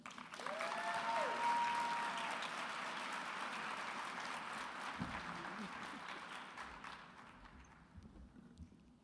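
An audience applauds at a keynote welcome for speaker Naomi Tutu, dense clapping swelling loudly in the first seconds, then slowly thinning and fading out, with scattered voices underneath.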